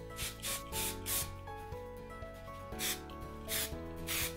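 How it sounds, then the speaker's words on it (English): Several short hissing bursts of volume powder aerosol sprayed at hair roots, close by, with a quiet pause between the first group and the last few. "I just spray this mostly at my roots"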